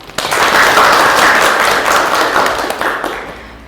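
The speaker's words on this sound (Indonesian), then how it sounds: "Kita berikan aplaus." Audience applause in a university lecture, a burst of clapping from a group that rises quickly, holds steady for about three seconds, then thins out.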